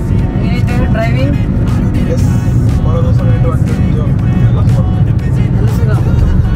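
A car drives along a quiet road, its engine and tyre noise forming a loud steady drone throughout, with a voice talking faintly over it.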